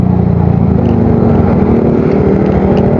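A motorcycle fitted with an aftermarket exhaust revs steadily up close, its deep, bassy drone loud and continuous with a throbbing low-end pulse and no talk over it.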